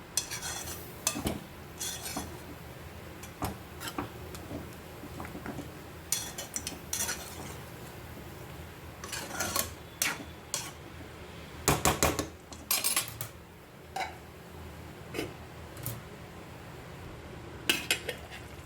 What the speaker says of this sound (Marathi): झाकण काढून थोडासा खालीवर करून घेऊया